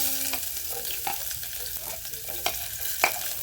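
Shallots and garlic fry in a pan with a steady close sizzle, punctuated by a few clinks and scrapes of stirring, with no voices over it.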